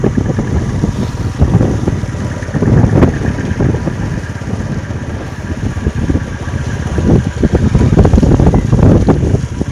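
Steady blustery wind with rain buffets the microphone on the coast at Muthukuda, with a low rumbling roar that swells and fades in gusts throughout, no voices.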